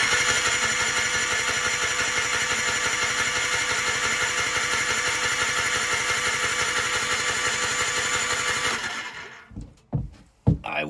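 A two-stroke quad engine cranks with the throttle held open, a steady rapid mechanical chugging that stays loud and close for about nine seconds before stopping, followed by a few knocks and clunks.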